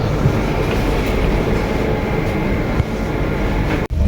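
A passenger train heading to Bengaluru runs with a loud, continuous rumble and faint rhythmic clatter of wheels on track, heard from inside the carriage without talk.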